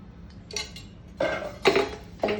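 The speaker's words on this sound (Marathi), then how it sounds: "3 चमचे मी तेल टाकून घेते।" A spoon scoops oil into a heated kadai for a pomfret green curry, giving three or four separate metallic clinks and scrapes of varying loudness against the pan, close by, with no talking.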